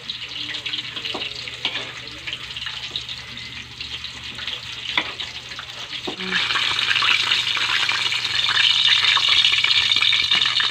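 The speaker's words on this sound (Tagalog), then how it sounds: "Kay lumpia last na niya itong luto." Lumpia frying in a pan of hot oil: a steady crackling sizzle that grows louder and denser partway through, with occasional clinks and scrapes from cooking utensils.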